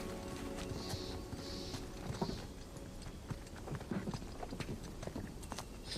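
Horse hooves clip-clop in Uncharted 4, a steady walking rhythm at moderate distance alongside other game ambience, with no talking.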